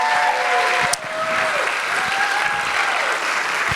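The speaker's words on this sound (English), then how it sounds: "let's give yourself a round of applause" Applause from the audience at an awards ceremony, with the planning team standing. Dense, steady clapping continues close by for several seconds, with faint voices and a few tones in the background.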